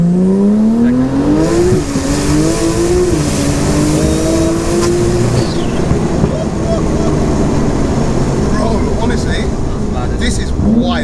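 A 1536bhp Porsche 911 Turbo S with a 4.1L stroker engine accelerates hard, its loud, close roar climbing in pitch through several gear changes, with wind and road rush and voices in the cabin.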